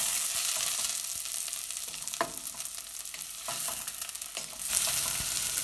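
Onions fry in a pan with cloves, cinnamon and cardamom for a Kerala-style vegetable stew. The quiet, close crackling sizzle is broken by scattered scraping stirs and light spatula taps.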